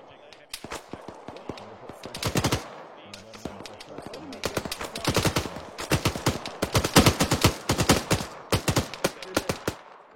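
Machine gun fire in a video game rattles in repeated fast bursts, loud and close, building in density toward the end, with a player talking between and over the volleys.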